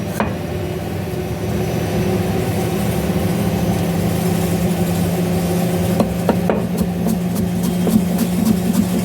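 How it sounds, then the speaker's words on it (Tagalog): Constant low mechanical hum of a washing machine running, with a few scattered light clicks and rattles toward the end. "Pasensya na po maingay kasi nagwa-washing."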